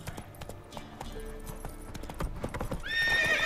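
Horse hooves clip-clop at a steady trot in The Witcher 3, followed near the end by a loud, rising whinny.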